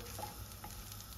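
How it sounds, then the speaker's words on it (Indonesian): Fried rice sizzles steadily in a hot pan as it is stirred, a continuous close crackle with no voices. "Digoreng-goreng. Nasi goreng."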